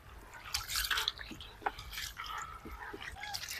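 Soaked black gram lentils are rubbed by hand in water, giving wet squelching, dripping and sloshing sounds in irregular bursts. The sounds are close and fairly quiet, with faint whispery noise mixed in.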